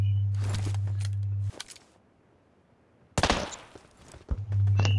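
Sharp gunshots from a PUBG match crack in quick bursts, some in rapid succession, against a steady low hum that cuts out briefly mid-clip before returning.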